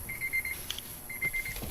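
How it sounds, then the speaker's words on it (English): Warning buzzers in a 2003 Honda Element 2.4L AWD beep in quick repeated bursts, two clear runs of short tones with a gap between, close and fairly loud with no talk. "Sorry about the buzzers."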